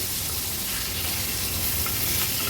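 A constant, dense hiss of sole fish pieces frying on a flat pan over medium flame, loud and close, with no talking.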